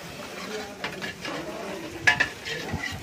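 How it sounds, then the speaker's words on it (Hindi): Onions being fried in a pan for egg curry, a faint steady sizzle with a few clinks of a stirring spoon against the pan and some quiet background noise. "अच्छी तरीके से प्याज को भूनते हुए।"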